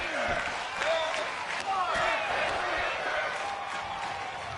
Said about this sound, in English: Everyone chanting in the crowd for Masters